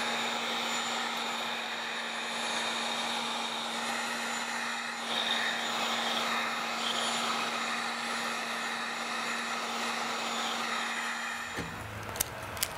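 A heat gun blows steadily on an old, six-year-old Oregon Ducks window decal, a constant airy hum with a fixed tone running nearly thirteen seconds before it stops, followed by a few light clicks.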